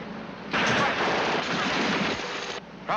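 Machine-gun fire in a 1951 war film about tanks: one loud, dense rattling burst lasting about two seconds, then a short fresh burst right at the end.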